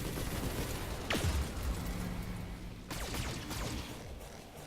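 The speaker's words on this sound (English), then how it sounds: "I'm going to jam all these shots of weapons at this guy's torso" Mech weapons volley in BattleTech: a whooshing projectile sweep followed by a cluster of sharp impacts and bursts, moderately loud, with a second salvo of cracks a couple of seconds later.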